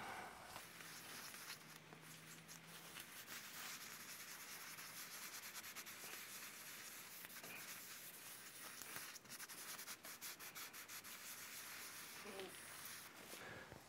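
Steady, fast scratchy rasping of 60 grit sandpaper worked over an elm live edge table with epoxy-filled cracks, continuous and fairly close for the whole stretch, with no talking.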